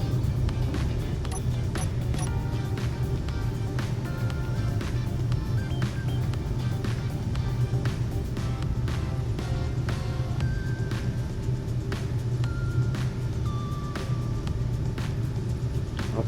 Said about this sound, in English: You can hear the engines roaring